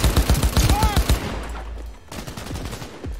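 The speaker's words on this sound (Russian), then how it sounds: "Что за стрельба?" Rapid bursts of automatic gunfire from the video game Cyberpunk 2077, a quick rhythmic string of close, loud shots followed by sparser, quieter firing and game sounds.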